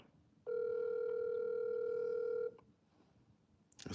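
A telephone ringback tone plays as an outgoing call connects, one steady two-second tone burst standing out clearly over quiet room noise, followed by a short pause and some faint movement.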